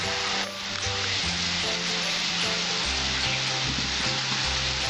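Onions sizzle and fry in a pan over a gas flame, a dense, continuous crackling hiss holding steady throughout, close and unbroken, with a low hum of kitchen noise beneath.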